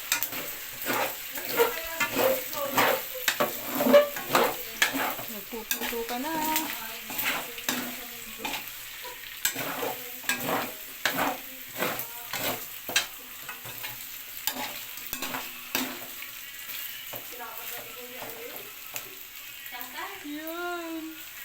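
Pork adobo with papaya fries in a pan, hot oil crackling and spattering in irregular bursts with stirring scrapes, close by, and a voice speaks now and then.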